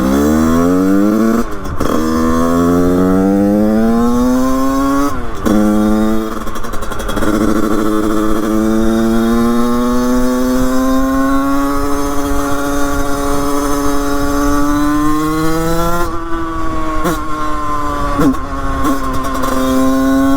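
A 100cc 2Fast two-stroke motocross bike engine runs loud and close during carburetor tuning, its high idle climbing and holding with sharp throttle blips and brief cuts in pitch.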